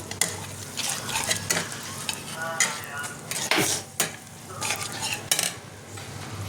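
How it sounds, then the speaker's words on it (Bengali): A spoon scrapes and stirs spice masala sizzling in a pan for Lucknow-style paneer biryani, with irregular metallic clinks and scrapes over a constant close frying hiss. "এবার এটা মশলাটা ভালো করে কষিয়ে নেব"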